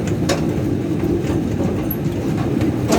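Miniature zoo train rolling along its rails, a steady low rumble with soft rhythmic clacks, continuous and close with no talking.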